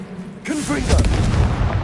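In Hogwarts Legacy, a Confringo fire-blast spell goes off as a short, heavy booming burst right after a quick whoosh, loud and close, filling the brief moment.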